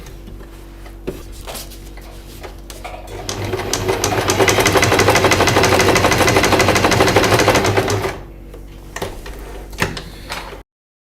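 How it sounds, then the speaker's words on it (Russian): A sewing machine stitches doll body fabric with long basting stitches, a steady loud mechanical run of about four seconds after softer handling noises, then stopping into quieter clicks and rustles. "Линию прочертили, шьем также большим стежочком."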